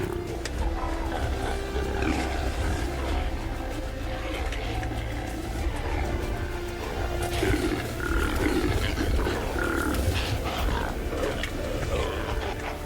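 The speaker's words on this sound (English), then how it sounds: "Early winter is filled with chaotic battles and frightening roaring." Rams in the early-winter rut roar and clash in a loud, chaotic chorus of deep bellowing calls that overlap continuously, with no pause and no talking.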